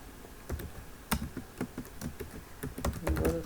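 Quick clicks from a computer keyboard as HTML code is typed, an uneven run of close, fairly quiet keystrokes with short pauses, ending in a denser flurry.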